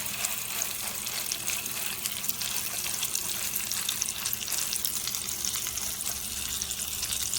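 Maryland lump crab cake frying over low heat in a pan, giving a steady, dense sizzle that holds evenly for the whole stretch with no talking.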